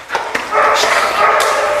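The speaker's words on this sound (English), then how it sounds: "So you're going to walk up to these dogs." Several dogs at a group meeting bark and yip close by, a couple of sharp barks followed by a burst of overlapping yapping and whining that fills the rest of the moment.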